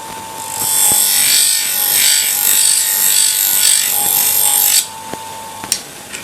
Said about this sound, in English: So we load the wheel up with the polishing compound, and then turn it over